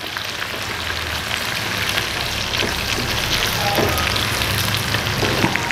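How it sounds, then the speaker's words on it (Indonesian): Garlic and spices for a teriyaki sauce sauté in hot oil in a pan, giving a loud, dense, continuous sizzle and crackle close up, with faint occasional stirring clicks. "ini rempah-rempahnya akan kita tumis sampai wangi"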